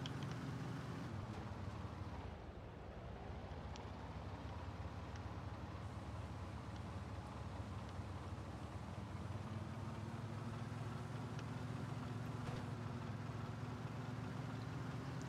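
A car being driven and rammed into another vehicle in the video game Miscreated: a steady, loud engine roar and road rumble throughout, with no distinct crash impacts standing out.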